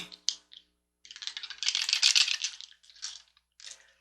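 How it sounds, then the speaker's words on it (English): Dice tumbling and clattering on a table before a tarot and astrology reading, a couple of short rattles then a longer rolling clatter, close and fairly loud with no talk. "And let's get ready to roll that dice."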